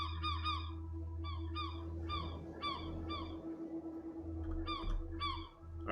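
Honking birds in the video game Escape the Pacific call in repeated bursts of several honks, fairly loud over a steady low rumbling game ambience, with a louder cluster near the end.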